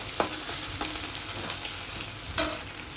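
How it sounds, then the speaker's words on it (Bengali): Eggs, potatoes, onions and green chillies frying together in a pan, with a steady close sizzle broken by a few sharp stirring scrapes. Nobody speaks. "ডিম আলু পেঁয়াজ কাঁচা লঙ্কা দিয়ে একটু ভেজে নিচ্ছি ভালো করে"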